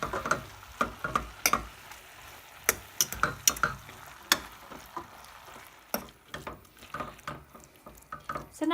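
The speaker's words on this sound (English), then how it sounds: "And then I'm going to give it a stir around all together." Minced beef and bean stew with red kidney beans and baked beans is stirred in a pot: a series of sharp spoon knocks and wet, squelching scrapes in an uneven rhythm, close and fairly loud, with no talking.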